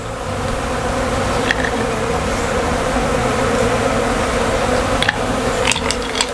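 A large honey bee swarm hums densely at a hive entrance dabbed with lemongrass oil. It is a continuous, close, loud buzz, with individual bees zipping past now and then.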